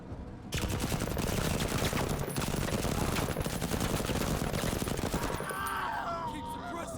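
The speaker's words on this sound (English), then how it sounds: "Lim, can you finish them off with a salvo?" A sustained salvo of rapid gunfire in the Menace sci-fi turn-based tactics game, loud and dense, roaring without pause for several seconds before easing slightly at the end.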